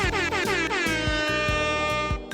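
A loud, blaring air horn prize from a guacamole minigame in the video game Smile for Me, sounding in rapid repeated pulsing blasts that run continuously for a couple of seconds.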